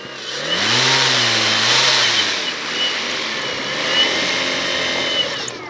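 The electric motor of an Avios Grand Tundra RC airplane whines and revs nearby, rising and falling in pitch in smooth sweeps, then settles into a steadier hum before fading somewhat, loud and alone.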